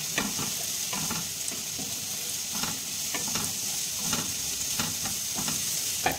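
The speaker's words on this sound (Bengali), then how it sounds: "ভালো করে আমি একটু ভেজে নেব।" Onion greens and chopped carrot are stir-fried in a hot pan: a continuous close sizzle with rhythmic scraping strokes of a spatula repeating every second or so, and no talking.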